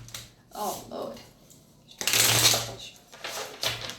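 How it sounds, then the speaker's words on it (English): A large deck of tarot cards being shuffled by hand, a few separate riffling bursts with short pauses between, close and fairly soft. "I'm using a bigger deck here, so the shuffling will not be all that classy."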